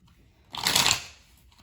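A single quick riffle of playing cards being shuffled, a brief crisp fluttering burst up close in a quiet room.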